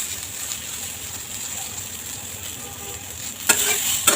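Taro stolon mash mixture stir-fried in a little oil on high heat gives a steady, soft sizzle with a couple of sharper scrapes near the end.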